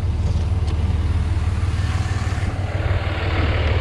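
A 2005 Dodge Ram 3500 dually with a Cummins 5.9L diesel idling, a loud, close, steady low-pitched chugging rumble with even rapid pulses throughout.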